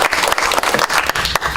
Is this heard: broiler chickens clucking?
no